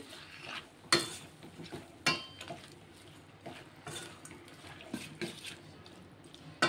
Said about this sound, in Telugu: నేను ఎటు కలిపినా కానీ నాకు గంట సౌండ్ ఎక్కువ వస్తుంది, అందుకోసం కొంచెం మెల్లగా కలుపుతున్నా